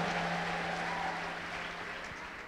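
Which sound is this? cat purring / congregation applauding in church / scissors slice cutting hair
congregation applauding in church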